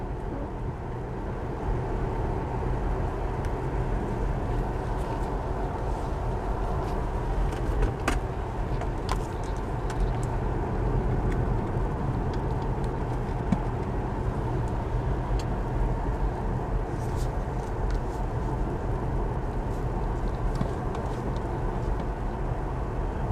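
A car driving steadily on the road on a long trip, with a broken heater, giving a continuous low engine and road rumble heard up close from inside, with no talk.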